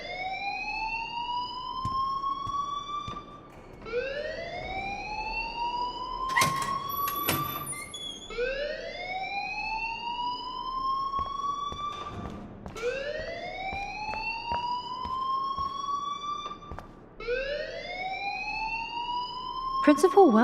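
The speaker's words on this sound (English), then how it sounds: "please turn off that alarm since that's your job" A school alarm from the video game Life Is Strange sounds as a loud, continuous electronic whoop, each tone sweeping upward and repeating about every two and a half seconds.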